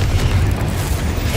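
A Confringo fire spell blast in the Hogwarts Legacy game, a short, dense, rumbling explosion that stays loud throughout with no voice over it.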